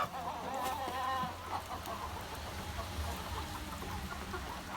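An Amrox rooster and hens cluck and murmur close by in a farmyard, with a continuous low chatter of fowl and a few sharper calls near the start.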